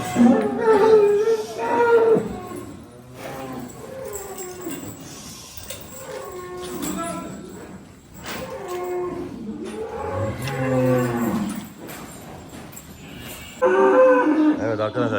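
Cattle low and call at a sacrificial livestock market where bull calves are sold ahead of Kurban, several drawn-out moos rising over crowd noise and people talking nearby, fairly loud and close.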